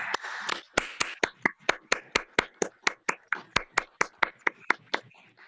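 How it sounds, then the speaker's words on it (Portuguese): Hands clap in a slow, evenly spaced rhythm, about twenty sharp distinct claps in a row at a municipal council session, close and crisp with near silence between beats and brief murmuring early on. "Uma salva de palmas de todos os senhores vereadores."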